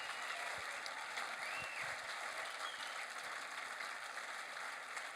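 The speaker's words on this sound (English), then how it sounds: "Big round of applause for Mark Renshaw." A live audience at a cycling talk event gives sustained applause for a professional lead-out rider, a steady, roomy wash of clapping at an even level with no speech.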